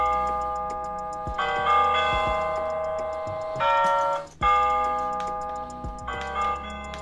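XREXS 18-inch digital LED wall clock sounding its alarm chimes, a series of ringing electronic bell tones in four separate phrases with short gaps, close and clear, accompanied by faint handling clicks.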